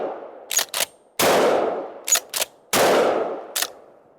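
An Escort Bulltac 12 gauge shotgun fires 2 3/4 shells outdoors in three loud blasts with ringing decays, spaced about a second and a half apart, each preceded by a pair of sharp mechanical clacks from cycling the action.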